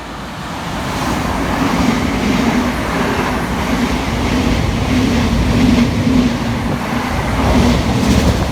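Thameslink Class 700 electric train passing fast through a station, a loud sustained roar with rhythmic wheel clatter close by that holds for the full length.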